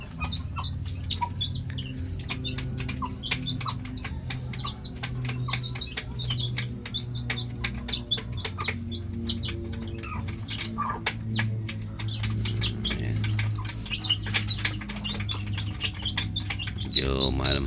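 Backyard chickens cluck and chatter steadily while being fed, a dense, continuous flock of calls close by with a faint background hum.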